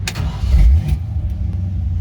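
A modified car's engine cranks and catches, settling into a rumbling idle with a brief rev in a town street setting, close and loud, no talking.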